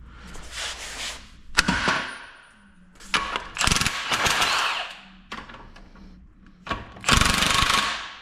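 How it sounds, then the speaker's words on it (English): Impact wrench spinning a nut on a GM 10 bolt front axle during a teardown, heard as several loud whirring bursts with short gaps between them, close and harsh. "We'll have to get our impact on there again."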